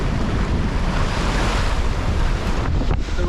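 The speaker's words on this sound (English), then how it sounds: "There are some good waves out there." Sea waves slap and rush against a sailing boat heading into building waves near an anchorage off the Dutch coast, a loud continuous wash with heavy wind buffeting the microphone and a couple of sharper hits near the end.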